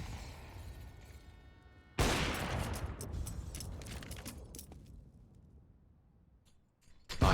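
Gunfire, grenade blasts and AWP sniper shots in a CS:GO match on the Train map, a sudden loud burst followed by a rattling, decaying barrage of sharp shots, then quieter before another abrupt hit at the end.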